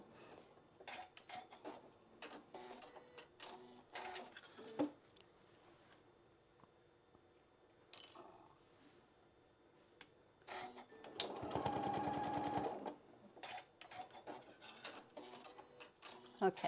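A sewing machine stitches fabric for an apron, running in a loud burst of rapid, even stitching near the middle. Softer taps and handling sounds come before and after it, and voices talk on and off.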